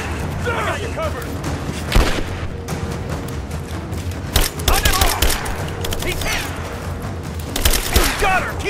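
Rapid gunfire in Rise of the Tomb Raider at a Soviet installation, with bursts of automatic fire, scattered single shots and booms layered over shouted voices and dense battle noise throughout.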